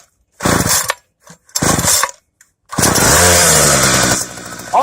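A 2018 Homelite Mighty Lite straight-shaft string trimmer engine, cold, snarls through two short throttle blips, then holds a loud, sustained high rev before easing off slightly near the end.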